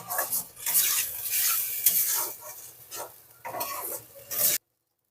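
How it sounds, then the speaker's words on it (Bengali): A spoon scrapes and stirs masala frying in a pan for an egg and soybean curry, with a steady low sizzle under repeated scraping strokes before the sound stops abruptly. "কষানোটা খুব সুন্দর করে করতে হবে যতক্ষণ না মশলা থেকে তেল না ছাড়ে"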